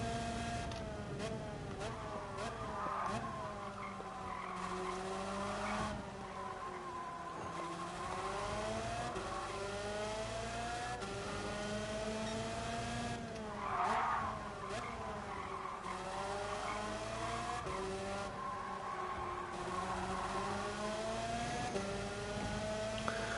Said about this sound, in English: I can hear the engines from behind.